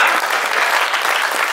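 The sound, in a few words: audience applause at Hindi poetry event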